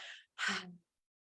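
Deep breath exhaled during a guided breathing exercise: a soft airy breath, a brief pause, then a stronger voiced exhale, close and quiet.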